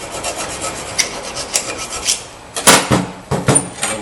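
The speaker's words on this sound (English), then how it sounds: "we're just going to clean a little bit of that rust away with a file or a piece of sandpaper" Short rasping strokes of a file scraping rust from the brake clip area on a 2012 Honda Accord, close and uneven, with a few louder scrapes near the end.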